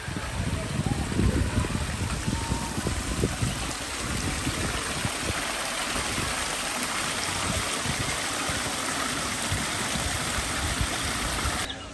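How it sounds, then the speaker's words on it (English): A garden waterfall at Parrot Mountain in Pigeon Forge, Tennessee, in springtime gives a loud, continuous rushing roar that stays close and constant throughout, with a few low rumbles near the start. "waterfall area."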